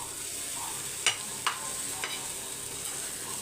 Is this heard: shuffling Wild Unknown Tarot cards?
no